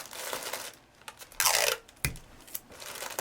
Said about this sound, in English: Once you're finished, wrap it up. And tape it together.